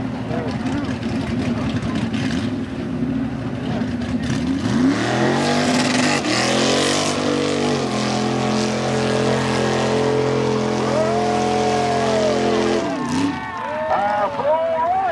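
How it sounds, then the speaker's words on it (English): A six-cylinder Ford truck engine roars loudly at a 1995 Plymouth mud bog, with its pitch climbing and falling through hard revs, while an announcer's voice comes over a PA system. "He got a turn into six-cylinder Ford off and running."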